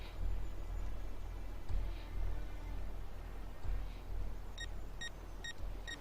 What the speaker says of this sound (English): What is that? Just a timer.